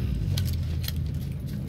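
A vehicle engine in PUBG hums as a steady low rumble through the whole short moment, with a faint metallic jingle on top.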